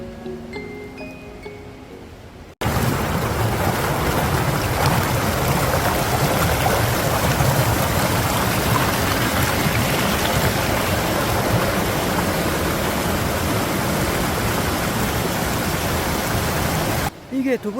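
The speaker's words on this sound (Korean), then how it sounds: "계곡을 바라보며 사계절 맑고 경쾌한 물소리를 들어보세요" Steady, full rush of high-volume water flowing down a mountain valley stream, loud and close, continuous throughout after a brief quieter opening.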